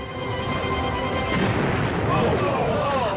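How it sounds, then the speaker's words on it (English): A Delta II launch vehicle carrying a GPS satellite explodes seconds after liftoff at Cape Canaveral, giving a loud, sustained rumbling blast with crackling bursts that swell midway, heard over broadcast commentary. "an explosion rocks the Cape"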